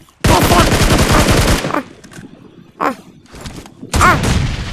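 Automatic gunfire rattles in the PUBG battle royale game, a long dense burst followed by a few short sharp volleys, loud and close, with a voice briefly heard between shots.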